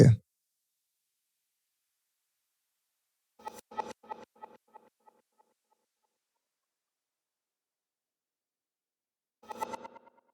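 Electronic 140 breaks sample run through an echo effect after a phaser: two short bursts of percussive hits, the first trailing off in fading, rapidly repeating echoes, separated by silence.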